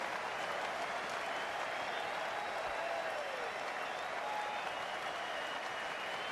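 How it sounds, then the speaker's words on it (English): A dense cricket stadium crowd claps continuously for a batsman walking off after a big one-day international innings, a steady, even wash of applause heard from a distance with no breaks. "Warm applause"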